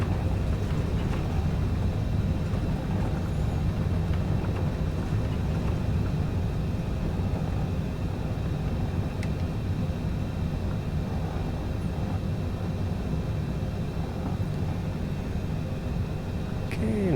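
Cessna Citation CJ4 jet in Microsoft Flight Simulator 2020 rolling out after landing with speed brakes deployed, a steady low engine and runway rumble droning without break, with a voice talking over it.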